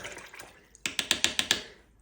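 A brush is swished and rinsed in a jug of water while casting moulds, first soft sloshing, then a quick run of about six sharp splashy strokes close by before it goes quiet.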